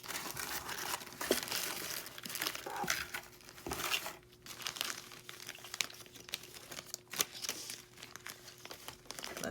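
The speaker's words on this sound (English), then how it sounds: "Let's open the first bag here." A plastic bag of Vintaj metal jewelry pieces is opened by hand, giving close, irregular crinkling and crumpling in quick bursts with brief pauses and a few sharper rustles.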